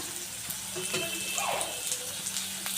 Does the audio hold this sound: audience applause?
no